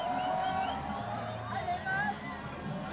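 A crowd cheers and shouts at a professional men's street skateboarding contest at FISE Montpellier 2024, a dense wash of voices and whoops with a commentator talking over it.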